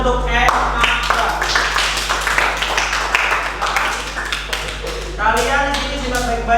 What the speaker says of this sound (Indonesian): kita beri tepuk tangan untuk Akbar